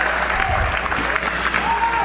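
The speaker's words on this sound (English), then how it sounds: "a nice round of applause for Zach Evans from the hometown crowd" A hometown crowd at a high school basketball game applauds, a steady, dense clapping that fills the gym with a murmur of crowd noise underneath.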